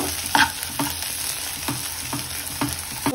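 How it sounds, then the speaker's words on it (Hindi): Grated potatoes frying in ghee in a pan, a soft continuous sizzle broken by regular scraping strokes of a spatula roughly every half second, close and moderately loud with no talk. "आलू भुनने लग गया है हमारा, लाल होने लग गया है।"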